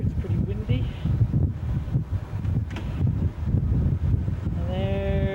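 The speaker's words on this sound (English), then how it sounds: "It's pretty windy." Gusty wind at an exposed spot about 7,000 feet up buffets the microphone with low rumbling bursts, under a voice talking, while a brief tonal sound enters near the end.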